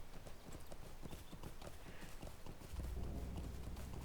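Horse hooves gallop at a steady, rapid clip-clop in a fantasy video game, with the rhythmic beats close and continuous and a low rumble joining near the end.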